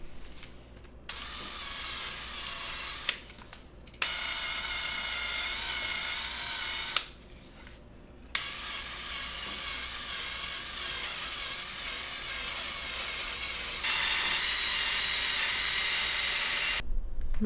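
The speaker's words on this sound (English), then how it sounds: "Those drill attachments are just not working as good as I had hoped they're working." A drill fitted with wire brush attachments grinds against painted brick in long continuous bursts with short pauses between, loud and close, with no talking.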